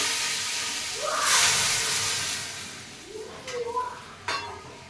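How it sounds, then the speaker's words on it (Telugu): Spices tempered in hot oil for rasam, after frying fish, give a close, swelling sizzle and hiss that fades gradually, broken by a few stirring scrapes and light clinks. "ఇంకా చారు కూడా తాలింపు అయితే వేసేస్తున్నాను"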